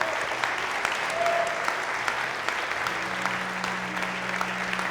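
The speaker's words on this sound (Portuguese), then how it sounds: "eu quero que você aplaude o Senhor Jesus essa noite" Applause from a church congregation, a steady patter of many hands clapping at moderate distance that holds throughout, with faint murmuring underneath.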